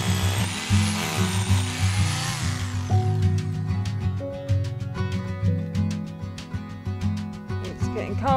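A power drill whirs in short bursts with rising and falling pitch, close by, alongside rhythmic knocking and faint talk.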